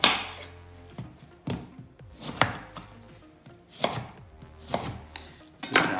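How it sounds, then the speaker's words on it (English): A knife chops through oranges on a board for a cake recipe, sharp distinct thunks spaced about a second apart, close and clear with no talking. "First things first, we're going to cut our oranges."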